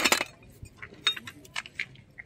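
Small vintage porcelain cups and saucers clink and tap together in a quick, irregular series of light, bright knocks, close by, at a flea market.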